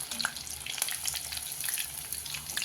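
Chicken 65 sautés in a pan with a crackling, spitting sizzle, and sharp pops and clicks over the steady frying hiss.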